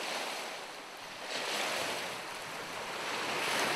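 Water and wind on the Ottawa River riverside, outdoors, a steady broadband rush that swells and eases, with no voices.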